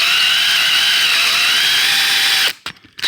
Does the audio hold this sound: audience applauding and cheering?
no